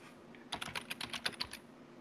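Quick, light keystrokes on a computer keyboard, about eight clicks in a brief rapid burst, close and fairly quiet.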